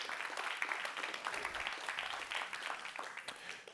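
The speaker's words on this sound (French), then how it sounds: "Applaudissez-les très fort." Audience at a conference on science and engineering careers applauds the Syntec Ingénierie host team, a soft, steady wash of many hands clapping at a modest distance throughout.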